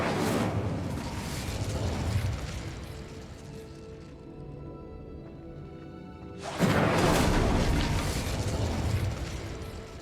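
An Incendio fire spell is cast in a video game, with two loud roaring bursts of flame separated by a quieter, humming lull.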